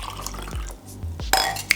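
Whisked matcha being poured gently from a bowl into a small pouring vessel, a few soft liquid trickles and splashes followed by a couple of light ceramic clinks close by.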